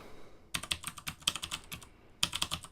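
Typing on a computer keyboard while coding, with close, crisp keystrokes in two quick bursts separated by a brief pause, no voice heard.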